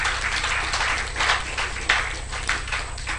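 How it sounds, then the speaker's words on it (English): An audience applauds at an anniversary and awards ceremony. The clapping is dense and continuous, filling a large room at a steady level with a few louder swells and no voices over it. "Please give her some round of applause."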